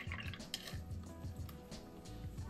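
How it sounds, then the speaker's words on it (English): A paintbrush is rinsed in a water pot while painting a miniature, giving soft repeated dripping and light sloshing, close and quiet, with no talk. "Wash the brush."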